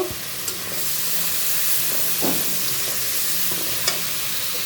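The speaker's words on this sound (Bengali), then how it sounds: "মশলাটা কষিয়ে নিব লবণ দিয়ে দিলাম দেখো সবজিটা কষানো হয়ে গেল" Spiced vegetables with salt and turmeric are sautéed for a small hilsa fish and new flat bean curry, producing a continuous close sizzle broken by occasional spatula scrapes and stirs, with no voices.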